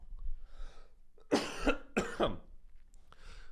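A comedian playing a fat Republican senator from Alabama lets out a few harsh, deliberate coughs and throat-clearing bursts, close and fairly loud, with a quiet breathy mutter before and after.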